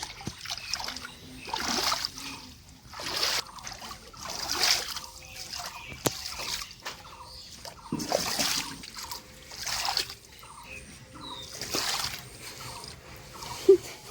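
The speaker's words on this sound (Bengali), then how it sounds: "জলে পা জল পাড়াতে কত মজা লাগে" Feet wading and splashing through shallow floodwater on a street, uneven repeated sloshes and trickles close by with faint background noise.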